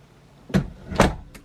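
An RV door swings shut with two solid thuds about half a second apart, then a lighter click, close and alone against a quiet background.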